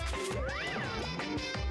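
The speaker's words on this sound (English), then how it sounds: "Monokuma wound up and smashed the abomination as hard as he could." In Danganronpa, Monokuma smashes an abomination with a sharp crash, followed by a sweeping whistling tone and further thuds in a short, busy game sound.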